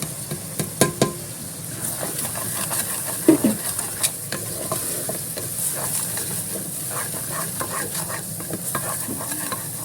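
Turmeric, salt and cumin roasting in a pan for an aloo matar gajar mixed-vegetable dish, a loud steady sizzle with repeated spoon scrapes and stirring clatter throughout, no talking.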